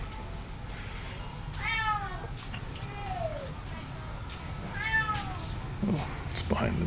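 A cat behind a door near a night market in Siem Reap, Cambodia, meows three times, somewhat muffled, with faint street ambience underneath.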